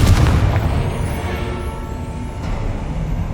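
A Confringo blasting spell explodes in Hogwarts Legacy: one heavy boom at the start, then a low rumbling tail that slowly fades over a few seconds, with no talking.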